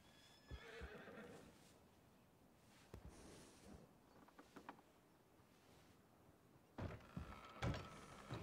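A horse in Red Dead Redemption 2 gives a faint whinny, followed by scattered hoof clops and a few dull clunks, all quiet and distant.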